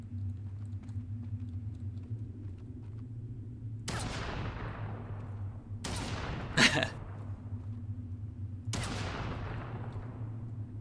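Gunfire from a submachine gun and sniper rifle in an in-development video game, heard as a few loud, separated shots with ringing tails over a constant low hum, one burst of rapid clicks in between.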